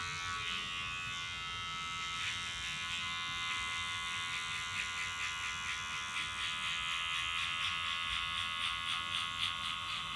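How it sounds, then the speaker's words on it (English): An electric hair clipper buzzes steadily and close up while cutting a fade haircut, its tone wavering slightly as it moves through the hair, with no talking. "have my clipper all the way closed."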